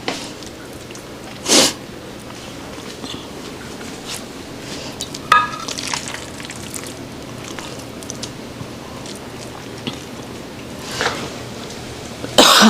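A person coughing in a kitchen while frying beet veggie burgers in oil, a few separate sharp coughs spaced far apart over a steady low background hiss.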